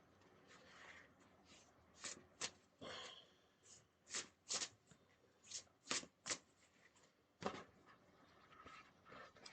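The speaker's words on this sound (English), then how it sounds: "At least I can shuffle again." Oracle cards being shuffled up close, a series of crisp riffling bursts with short pauses between them, quiet otherwise.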